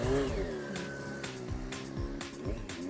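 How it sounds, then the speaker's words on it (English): A motorcycle engine revs in short, repeated throttle blips during a clutch-up power wheelie, each burst rising and dropping in a choppy rhythm, close and fairly loud. "So go ahead, Ernie, clutch up a power wheelie."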